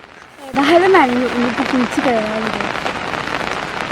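June monsoon rain in Kerala falls as a steady broadband hiss, while a voice rises and falls in speech over it, close and fairly loud.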